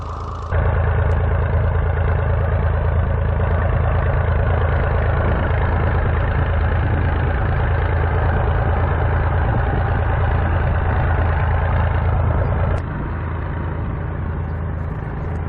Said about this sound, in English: And another tractor braving the difficult weather is this Fowler 25D, the only known survivor of this model.